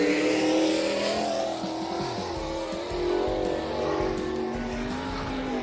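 A 360 winged sprint car roars through a race in the IRA Sprint Car Racing Series, its engine loud and continuous with shifting pitch as it accelerates and sweeps past, joined by tire noise and other cars in the background.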